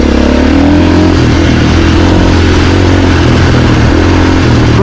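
A 2024 Husqvarna FE450 dirt bike engine running loud and close, a steady, dense mechanical drone with a strong low rumble throughout and no speech.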